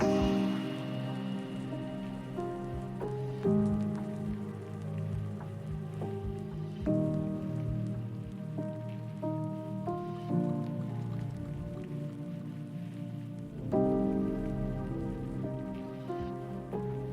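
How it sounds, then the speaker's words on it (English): Rain falls steadily on surfaces on a rainy April day, a soft continuous patter close by, with a tonal hum running underneath. "So, today is a rainy day, a long-awaited one."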